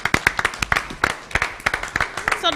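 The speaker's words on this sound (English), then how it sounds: "So let's give our Read United volunteers another round of applause." An audience at a school board meeting claps for Read United volunteers, a close, lively burst of individual hand claps with a few louder peaks running throughout.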